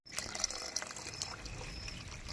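Water poured into a pan for cooking desi-style Maggi noodles, a steady close trickle and splash lasting a couple of seconds with a few brighter splashy accents.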